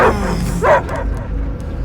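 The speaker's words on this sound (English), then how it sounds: "I hear only barking." Hostile dogs in the Guardians of the Galaxy video game give two or three sharp, close barks and yips, followed by a low rumbling game backdrop.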